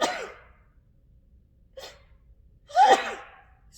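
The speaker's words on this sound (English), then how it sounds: "Excuse me, I'm going to sneeze." A person fakes a sneeze during a children's story time about ducks: an opening gasping intake, a short second breath, then one loud, close explosive sneeze.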